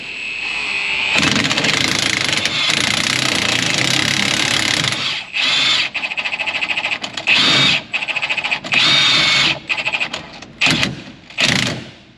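A power drill drives a socket onto a kernel processor fitting on farm equipment, running as a loud, steady whine for several seconds. Short repeated bursts follow, each separated by brief pauses.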